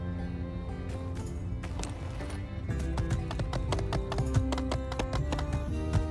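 Horse hooves clip-clop in steady rhythm in the My Time at Sandrock video game, crisp repeated taps growing denser and more prominent after the first few seconds over a continuous game music background.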